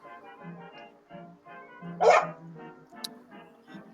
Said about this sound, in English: Pug, stop barking.